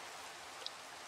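Steady rain falling in the Minecraft video game at night, a soft, even hiss of drops throughout with one brief sharper drip, no talking.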